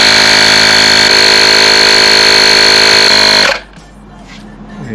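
A Fanttik S100 portable tire inflator pumps air into a Tesla tire, a loud steady motor drone with a high whine that runs continuously for about three and a half seconds, then cuts off abruptly to quiet.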